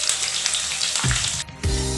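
Crushed garlic and curry leaves fry in hot oil for spicy masala peanuts, a bright, steady sizzle with a brief dip and a low knock of the pan before the frying resumes.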